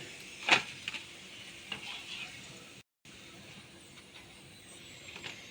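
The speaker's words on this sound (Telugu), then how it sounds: "మిగిలినవి కూడా ఇలాగే ఫ్రై చేసేసుకుందాం" Potato french fries frying in hot oil give a quiet, steady sizzle, broken by a few faint clinks and stirring sounds, with a brief total silence partway through.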